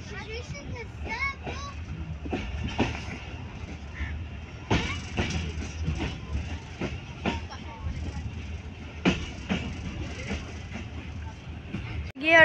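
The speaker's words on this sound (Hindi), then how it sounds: "और ट्रेन जा रही है इधर से" A train heard from on board rumbles steadily with clicking rail joints and occasional knocks, while children and adults talk over it throughout.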